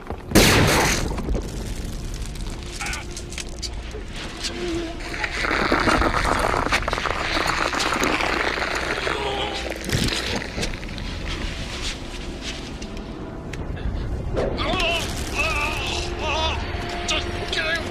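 Gunfire and explosions in a sci-fi movie set on a future Earth, heard as loud rumbling booms and dense crackling noise, with voices talking over the din.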